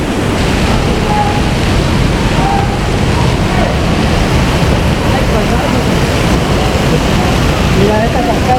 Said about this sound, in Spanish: esta cascada que está cayendo es otro nacimiento que está saliendo de arriba